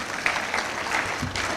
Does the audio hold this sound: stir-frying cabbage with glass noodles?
no